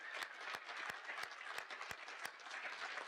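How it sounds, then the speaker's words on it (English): Applause from the crowd at a high school equivalency graduation ceremony honoring a literacy project leader, heard as a fairly quiet, steady wash of clapping with a few sharp, distinct claps standing out at regular intervals. "Let's all give a cheer for Judith Roberts and her leadership of the Literacy Project."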